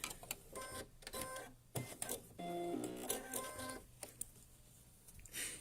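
A sewing machine stitches fabric for a small hand sanitiser pouch in short bursts of rapid mechanical whirring and clatter, broken by pauses and a few clicks, close and fairly quiet.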